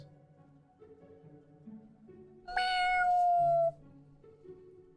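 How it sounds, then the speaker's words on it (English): A cat meows once outside, a single drawn-out, fairly clear cry partway through, while quiet background music plays under it. "I hear my cat outside."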